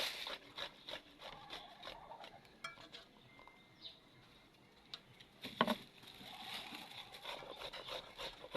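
Vegetables being grated for okoy fritters: close, continuous rasping strokes in an uneven rhythm, with a louder burst of scraping partway through.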